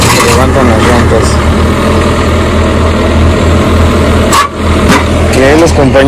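A farm machine's engine rumbles low and steady, rising at moments as it strains to pull something out of the ground, with people talking over it.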